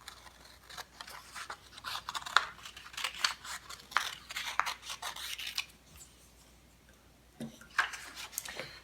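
Scissors snip through folded paper for a handmade mola art project, a series of close, crisp rasping cuts in irregular bursts with a short pause before a final few snips.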